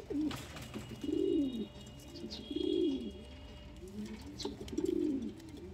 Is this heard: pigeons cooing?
yes